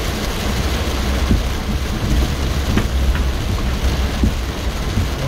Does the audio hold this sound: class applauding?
no